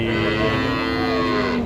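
Cattle, including Simmental calves and young bulls, mooing loudly and continuously at Kerek cattle market, with a dense, close bellowing filling the whole moment and no talk over it.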